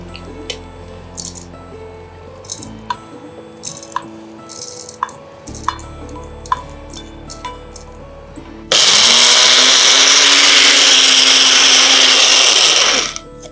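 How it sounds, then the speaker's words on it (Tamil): A kitchen mixer grinder loudly whirs as it grinds roasted neem flowers and lightly sautéed curry leaves into a chutney, a steady roar that starts abruptly after several seconds of soft clinks and drips and runs for about five seconds before stopping. "இது நம்ம இப்போ அரைச்சிடலாம்"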